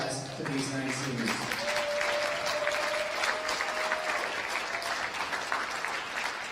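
Steady, dense clapping from a crowd honoring nine seniors of the Hudson Raiders high school wrestling team at a January event, with a brief voice over the start.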